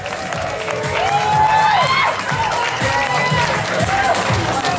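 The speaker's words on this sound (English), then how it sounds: "Give a big round of applause." Audience applause and cheering at a body art competition, a crowd clapping with whoops and shouts while voices talk over it.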